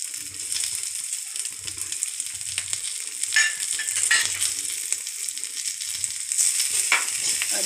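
Ginger frying in a hot pan during home cooking, a steady close sizzle with soft crackles and occasional sharper spits, heard alone without talk.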